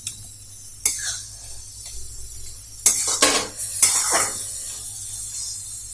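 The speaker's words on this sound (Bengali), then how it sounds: "এক্ষেত্রে সর্ষেটা একটু ফ্রাই করে নিতে হবে" Mustard seeds fry in hot oil for a snail onion curry, giving a steady sizzle broken by sharp metallic scrapes and clinks of a spoon stirring the pan.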